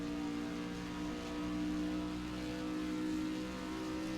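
Race car engine in a racing video game, a Supra among the cars at Mosport, holds a steady, sustained drone with layered harmonic tones throughout, moderately loud and continuous with no talk.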